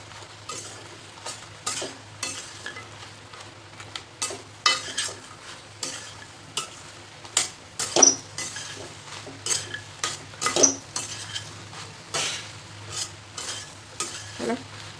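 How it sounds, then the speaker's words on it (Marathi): A spoon stirs fried soya chunks through a sizzling pan while making soya chilli, scraping and clinking in an irregular, steady rhythm close by, with a soft frying hiss underneath and no talking. "आपण तळून घेतलेले सोया चंक्स घालायचे. मिक्स करून घ्यायचं."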